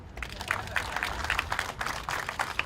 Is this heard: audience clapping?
yes